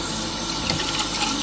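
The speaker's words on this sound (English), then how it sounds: "You'll see here the Turkish coffee pot, which you fill up with, not all the way, just enough, with cold water." Cold tap water runs into a Turkish coffee pot, a steady, loud, hissing gush that continues without a break and with no voices over it.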